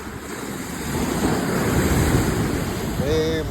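Sea waves wash steadily against the shore under gusting wind noise on a fishing outing by the sea, a continuous roar that swells slightly midway, with a brief higher tone near the end.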